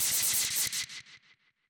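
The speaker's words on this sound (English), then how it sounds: "the last sound actually, is this last screech, which sounds like this." An experimental screech from an industrial techno track: a harsh, bright, noisy burst with pulsing low thumps that breaks into a string of repeating echoes, each quieter than the last, fading out over under two seconds with no voices.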